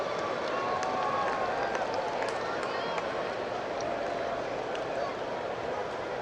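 A dense stadium crowd roars and applauds steadily after goalkeeper Martinez's penalty save in the Netherlands v Argentina World Cup quarter-final, a broad sustained din with scattered whistles, loud throughout.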